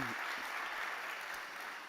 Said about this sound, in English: big applause for Sam